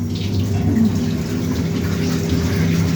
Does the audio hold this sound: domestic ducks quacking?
no